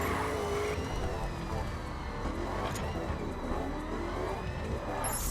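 A Corvette C7 drives in the video game The Crew, its steady engine drone running continuously at moderate volume, with a brief whoosh near the end and no clear talk over it.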